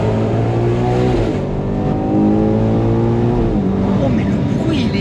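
Ferrari Purosangue engine revving inside a tunnel, a loud, sustained harmonic roar whose pitch climbs and falls with echoing reverberation, with a voice speaking over it.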